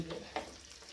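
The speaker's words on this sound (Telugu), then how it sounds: "ఇలా సిమ్లో కొంతసేపు లైట్గా వేపుకున్నాక వీటిని మనం చిన్న బౌల్లోకి షిఫ్ట్ చేసుకోవాలి" Something roasting lightly in a pan over a low flame: a quiet, steady sizzle broken by one or two soft stirring scrapes, heard close and alone, with no one speaking.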